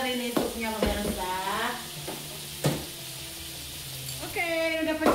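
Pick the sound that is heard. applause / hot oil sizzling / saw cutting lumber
hot oil sizzling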